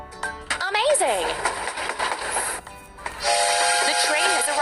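A toy railway train pulls in with a bright whistle-like tone and rattling, busy mechanical clatter, fairly loud and close, broken by a short pause before the noise resumes.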